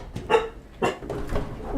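A dog in an indie horror video game barks and yips in several sharp, close bursts with whimpering tones between them, loud and agitated, with no talk.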